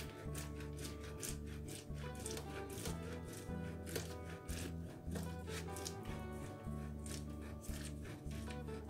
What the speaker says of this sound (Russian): Сыр натираю на крупной терке.